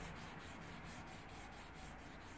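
Very fine sandpaper rubbed on a worn needle bar part of an old dress sewing machine under repair, a faint, continuous rhythmic scratching with quick back-and-forth strokes, close up and alone.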